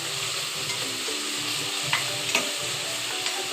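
Spices for chicken biryani fry in a pan with a steady bright sizzle and occasional stirring scrapes, close and continuous with no talking.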